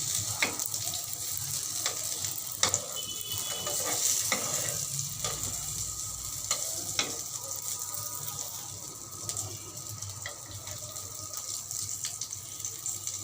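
Eggplant slices fry in a pan over a medium flame, giving a steady close sizzle and crackle broken by repeated clicks and scrapes as the pieces are turned; no talking.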